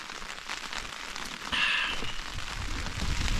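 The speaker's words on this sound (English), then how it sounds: "the sound of rain on a tent" Rain patters steadily on a tent during a solo wild camp at Sprinkling Tarn, a close, dense hiss that swells briefly in one louder gust.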